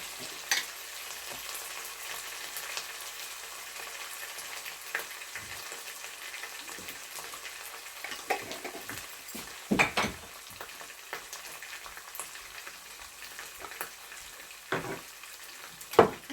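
Soft, low sizzling of garlic frying in a pan, with a few sharper clinks and scrapes from stirring scattered throughout.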